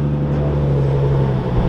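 A Nissan GT-R sports car passes by leaving a car meet, its engine giving a loud, steady low drone with a strong sustained hum throughout.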